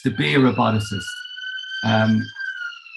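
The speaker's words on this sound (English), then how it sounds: "Apologies about the siren." A siren passes outside during an online webinar on robotics, its steady wailing tones held high and constant beneath and between a man's speech.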